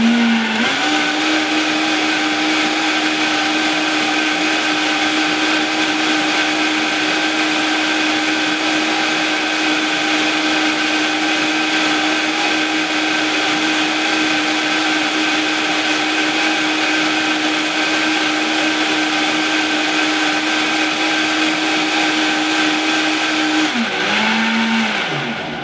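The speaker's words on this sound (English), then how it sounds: "So we gave it a good blend, 30 seconds to a minute." A blender runs steadily at high speed, grinding almonds for almond yogurt, with a loud, even whir held for about twenty-five seconds before it winds down at the end; no voices.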